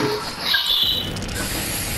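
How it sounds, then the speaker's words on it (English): Spray tan being sprayed in the video game Fortnite: a steady, hissing spray with a faint mechanical click, holding evenly for about two seconds. "y'all stay in there and give each other spray tans"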